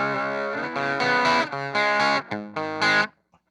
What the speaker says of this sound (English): Almost has like some sounds of like bit crushing in it